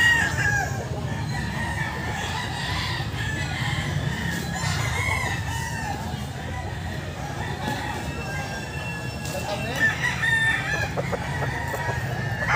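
Fighting roosters crow at a market selling them amid a steady low rumble of background noise, with scattered clucking from a crowd of birds.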